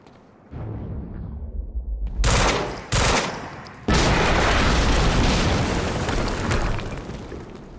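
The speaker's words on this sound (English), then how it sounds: "HQ, we just heard an explosion near the harvesting perimeter." Explosions and heavy gunfire erupt in the action video game Quantum Break: a rumbling build, then loud booming blasts and a sustained roar of bursts and debris close by.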